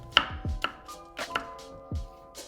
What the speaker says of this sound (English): Then you're going to prep out the hazelnuts by chopping them into quarters.